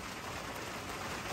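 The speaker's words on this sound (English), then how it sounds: "It's definitely going to be raining for a while." Steady rain falls outdoors during a lawn care job, a dense, even hiss that stays constant and close for the whole short stretch, with no voices over it.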